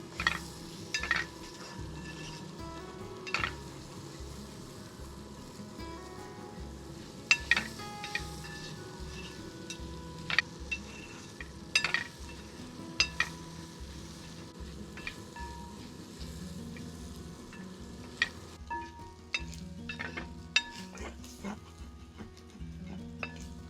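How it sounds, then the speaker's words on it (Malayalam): A spoon scrapes and clinks against a pan while beef dry fry with slit green chillies is stirred, repeated sharp metallic taps over a low, steady sizzle, no talking. "ഇനി ഇതിങ്ങനെ ഇളക്കി ഇളക്കി ഇളക്കി നല്ലോണം ഒന്ന് ഡ്രൈ ആക്കി ഡ്രൈ ആക്കി എടുക്കാം"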